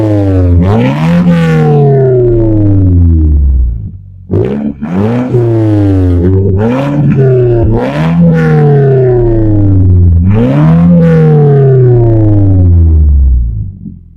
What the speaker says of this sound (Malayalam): നമുക്ക് ആ സൗണ്ട് ഒന്ന് ചെക്ക് ചെയ്യാം, റൈറ്റ്? സോ വണ്ടി സ്റ്റാർട്ട് ചെയ്യാം.